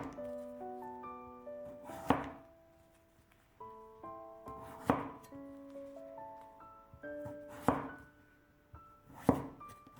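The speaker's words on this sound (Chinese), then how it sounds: "然后再改刀切成薄片。" A knife slicing peeled pumpkin into thin pieces on a cutting board, four distinct sharp chops spaced a couple of seconds apart, heard close and alone over soft background music.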